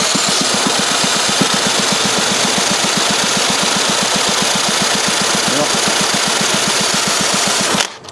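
A 1952 Briggs engine with a bad valve seat is cranked over in a fast, even chugging rhythm, a long unbroken run of pulses that stops abruptly without the engine catching.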